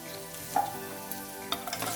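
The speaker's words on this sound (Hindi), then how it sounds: "अभी भिंडी के साथ अनियन को भी 2 मिनट तक मीडियम फ्लेम में फ्राई करेंगे" Okra and onions fry on a medium flame in a pan, a soft steady sizzle with a couple of brief utensil clinks and scrapes.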